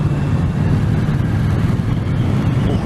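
A Triumph Street Cup 900 twin-engine motorcycle with stock exhaust idles nearby, a steady low, throbbing rumble that keeps an even pulse throughout with no talking.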